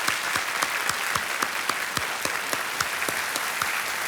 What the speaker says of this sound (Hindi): एक बार फिर से जोरदार तालियां